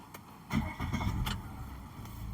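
A car engine starts nearby, first a short crank, then a catch into a soft steady idle that carries on faintly, with no voices.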